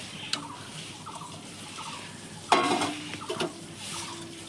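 Fish pieces go into a simmering homemade fish curry in a pot, with a splash and a sharp sizzle midway, then soft stirring clinks and a steady low bubbling, moderately close and without talk.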